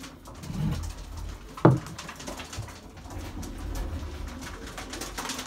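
Young pigeons coo softly at close range against a low background murmur, with one brief louder knock partway through.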